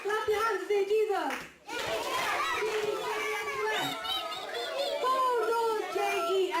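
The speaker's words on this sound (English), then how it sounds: "Clap your hands and say Jesus!" A group of children at a church kids' gathering clap their hands together amid lively chatter and sung chanting, the claps mixing with many young voices throughout, briefly pausing midway before resuming.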